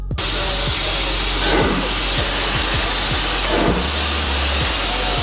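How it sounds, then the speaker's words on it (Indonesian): Steam locomotive exhaust blasting rhythmically from the engine and chimney, a loud continuous hiss with regular chuffing pulses and a low rumble, close and steady with no talk. "itu adalah hempasan pembuangan uap dari mesin bang"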